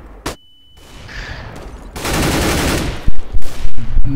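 Gunfire in a CS:GO match with teams using AWP sniper rifles, sharp single shots and a dense rattling burst of fire, loud and close, with grenades and game effects mixed in.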